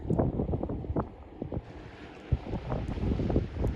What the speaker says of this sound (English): we do have a light breeze here in Coney Island Creek